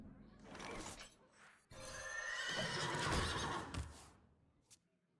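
In the Hearthstone video game, a horse card lets out a loud whinnying neigh, a short snort first, then a longer rising and falling call with a brief click at the end.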